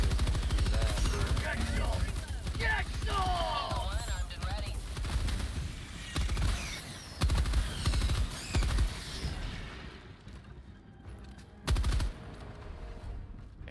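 A sentry turret in the video game Helldivers 2 fires rapid automatic bursts amid battle noise, while players talk over the gunfire before it tapers off, ending in one last sharp burst.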